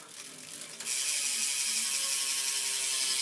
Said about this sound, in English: I guess I'm going to do a hub sound, so it's a fairly quiet hub